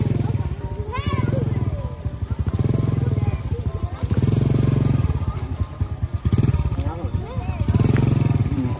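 A motorcycle engine revved with the throttle held open, repeated surging roars in long bursts with brief dips between, close and loud, with people talking and shouting over it.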